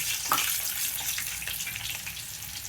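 Mustard seeds, cumin, chana dal and onion pieces frying in a pan, a steady close crackling sizzle with watery hiss running throughout, no voices.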